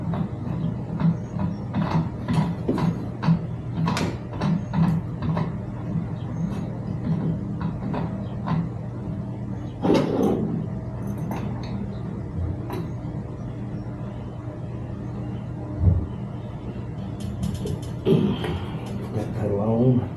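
Left pedal being threaded onto the crank of an electric bike during assembly, giving quiet ratcheting clicks and small metallic ticks in an irregular series up close, with brief talking mixed in.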